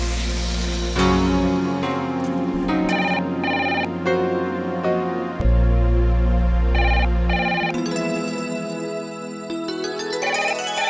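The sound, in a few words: telephone ringing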